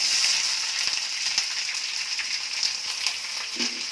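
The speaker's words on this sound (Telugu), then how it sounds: "ఆవాలు చిట్పట్లాడిన తర్వాత ఉల్లిపాయ ముక్కలు" Onion pieces fry in hot oil with mustard seeds for a broccoli potato tomato curry, giving a steady bright sizzle with scattered pops and splutters throughout.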